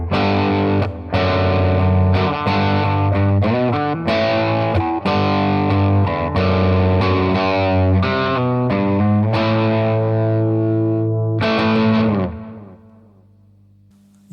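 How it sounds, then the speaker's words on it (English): Gibson Les Paul electric guitar played through a Mad Professor Royal Blue overdrive, loud driven chords and riffs ringing steadily for about twelve seconds before the last chord fades out. "You're hearing it with a Mad Professor Royal Blue overdrive at the moment."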